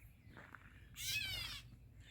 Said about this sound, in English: See, he's just calling one over here. Sounds just like a cat.